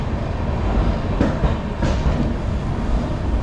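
A passenger train pulling out of Kharagpur station gives a steady loud rumble of rolling wheels and carriage noise, with two brief sharper knocks partway through.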